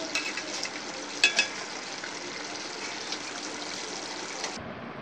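Tengra fish with coriander leaves cooks in a pan, giving a soft, steady sizzle and bubbling with a few faint clinks early on, fairly quiet, before cutting off near the end.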